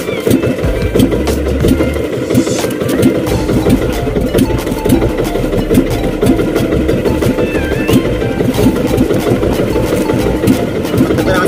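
Fishing boat engine chugging loud and steady at close range as the boat heads out to sea for skipjack tuna, with a continuous low throbbing rhythm.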